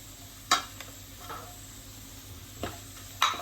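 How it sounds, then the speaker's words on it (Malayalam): Sliced onions sautéed in a pan for egg biryani topping, a soft low sizzle broken by a few sharp scrapes and clicks of a spoon stirring nearby. "ഇത് നന്നായിട്ട് വഴറ്റി വരണ വരെ ഇളക്കൊണ്ടിരിക്കും സവോള ഫ്രൈ ആയിണ്ട്"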